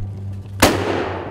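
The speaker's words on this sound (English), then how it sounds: "He fires through the trees" A single sharp rifle shot fired through trees at a red hind during a driven deer hunt, a loud close crack with a long rolling echo decaying across open country over a low steady hum.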